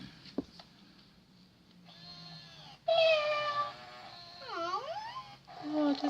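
Little Live Pets Cuddles, a toy cat, gives electronic meows, rising and falling cat calls in a few separate bursts that grow louder toward the end, with a low hum underneath.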